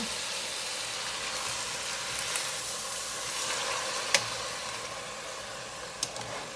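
Chicken and rice soup ingredients being stirred in a hot pan, a steady close sizzle with a few sharper clinks of a utensil against the pan, no talking.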